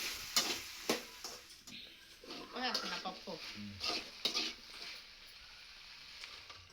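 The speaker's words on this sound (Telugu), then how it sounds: "ఇప్పుడు బీనీసు, చిక్కుడుకాయలు, ముల్లంగి అన్నీ వేసి బాగా కాసేపు నూనెలోనే బాగా వేయించుకుంటాం" Beans, broad beans and radish frying in oil in a home kitchen pot for sambar, a soft steady sizzle with occasional stirring clinks and scrapes at close range.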